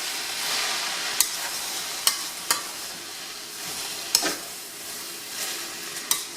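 Cabbage being stirred in a pan with the heat off, a soft continuous sizzle with a few sharp clinks of a utensil against the pan, close and fairly quiet.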